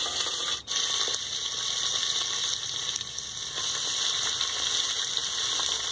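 A goat head drops into a pan of onions fried until red, and a steady, loud hiss of frying fills the whole stretch, with one brief thud near the start.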